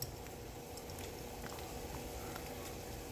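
Water boiling in a pot on the stove for cooking pasta, a faint, steady bubbling and popping churn that runs continuously at low level with no talking.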